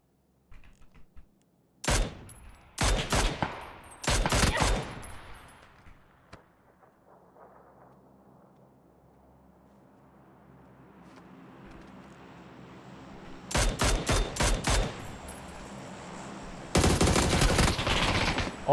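Gunfire in PUBG rings out in sharp bursts of several rapid shots, with a tense quieter stretch between volleys and heavier sustained fire returning near the end, no talking.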